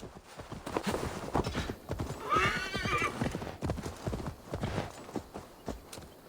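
Horse in Assassin's Creed Valhalla trotting with steady clip-clop hoofbeats, then letting out a loud, clear neigh midway before the hooves carry on, close and alone.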